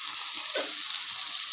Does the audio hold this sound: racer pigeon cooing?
no